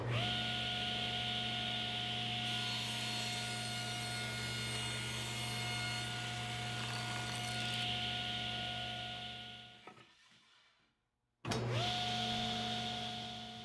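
A table saw rips birch plywood into shelves, a steady loud whine with a tonal hum that runs without a break for about ten seconds, then drops to near silence as the cut ends before the motor spins up again.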